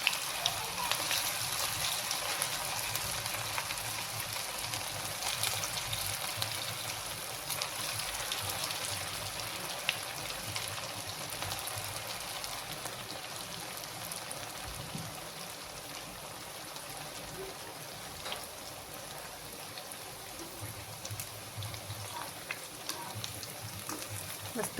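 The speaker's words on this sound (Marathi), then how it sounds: "हे आता आपल्याला ह्या सगळ्या अशा तळून घ्यायच्या आहेत." Pieces of rava and potato deep fry in hot oil, giving a soft, steady, continuous crackling hiss that stays even throughout with no breaks.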